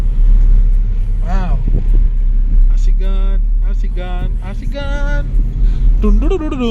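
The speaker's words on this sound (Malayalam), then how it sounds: "അപ്പോൾ ഇത് ഓടിച്ചോണ്ടിരിക്കുകയാണ് ആഷിക്ക്. ആഷിക്കാണ് വണ്ടി ഓടിക്കുന്നത്." A car drives on a road near Palakkad, heard from inside the cabin as a steady low engine and road rumble under continuous conversation between the occupants.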